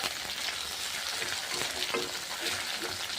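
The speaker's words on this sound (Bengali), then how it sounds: "টমেটোটা যতক্ষণ না সিদ্ধ হয় ততক্ষণ নাড়তে চাড়তে হবে" Tomatoes fry in a wok (kadai) with onion and potato, a steady close sizzle broken by scraping stirs of the spatula every second or so.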